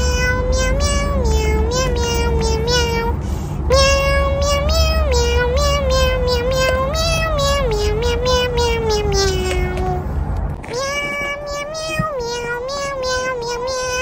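Several cats meow repeatedly at a cat cafe, their loud, overlapping cries continuous and close, with a brief lull near the end before more meowing.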